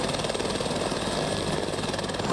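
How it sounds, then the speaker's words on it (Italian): A police helicopter lifts off in Treviso, its rotor and turbine a loud, constant whirring roar that continues throughout without speech. "Come potete vedere, l'elicottero si sta alzando"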